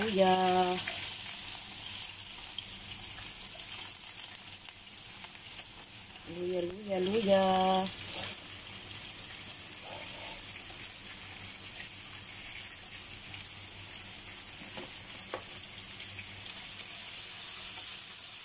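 Ginger sautéing in a pan, a steady soft sizzle and crackle that runs throughout, while a voice talks at intervals and a few faint clinks sound in the background.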